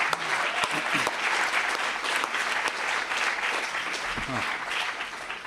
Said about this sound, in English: big round of applause to all the teams today